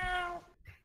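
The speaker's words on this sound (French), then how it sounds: "Fais pas de miaou." A single close cat meow, bright and tonal, fading after about half a second, followed by a short softer chirp, heard alone indoors.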